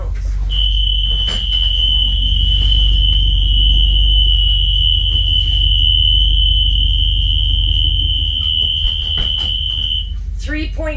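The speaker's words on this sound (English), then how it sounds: "alarm sounds." A vehicle door alarm sounds on a truck during a walk-around inspection: a steady, piercing high electronic tone holds for about ten seconds over a low engine rumble, then cuts off.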